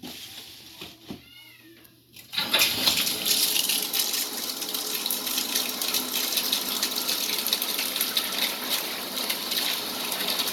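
Warm water gushes steadily from a tap into a soapy plastic litter box, a loud continuous splashing that starts after a couple of seconds of quieter sounds with a cat meowing briefly near the start.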